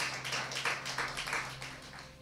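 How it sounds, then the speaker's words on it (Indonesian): A church congregation clapping together in a quick, uneven patter of hand claps, moderately close, lasting a couple of seconds and fading slightly at the end. "Beri tepuk tangan yang meriah buat Tuhan Yesus."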